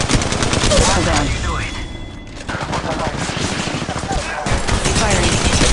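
Sustained automatic weapon fire in the mobile shooter Apex Legends Mobile, a long loud barrage that pauses briefly near the middle and then resumes rapid shots.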